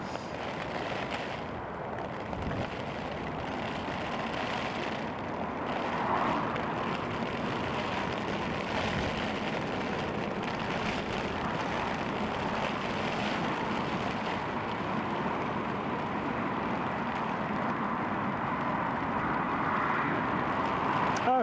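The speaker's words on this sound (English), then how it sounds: "There goes the British Airways A321neo back to Heathrow." A British Airways Airbus A321neo departs Newcastle International Airport for Heathrow in wet weather, its jet engines producing a steady broadband roar that stays loud and continuous throughout, with no pauses or breaks.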